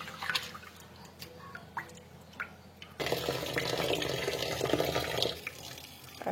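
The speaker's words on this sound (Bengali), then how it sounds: "আমি চাউলগুলা ভালোভাবে কচলায় দিয়ে ফেলতেছি।" Rice rubbed and washed by hand in water: irregular drips and splashes, then a denser, continuous sloshing of water and grains, close and moderately loud.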